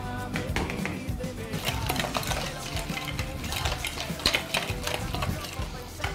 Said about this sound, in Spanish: Batidora.